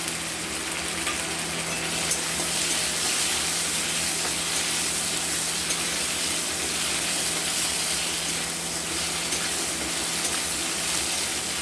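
Chopped tomato pieces stirred in a hot frying pan while cooking a katla fish curry with potato and taro, giving a steady, even sizzle and frying hiss throughout with faint scraping, no talk.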